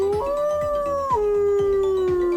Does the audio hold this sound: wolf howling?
yes